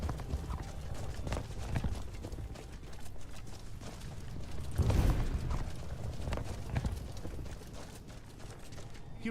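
Arvak, a skeletal horse in Skyrim Dawnguard, clip-clops steadily at close range for several seconds, its hoofbeats blending with a loud, busy game soundscape. A whinny rises partway through.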